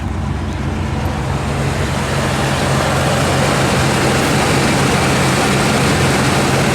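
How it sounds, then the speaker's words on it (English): A 1965 Imperial Crown convertible's 413 cubic inch V8 running at a slightly high idle, a loud, steady, close rumble that continues without a break and with no talk over it. "It sounds like it's a little high idle right now"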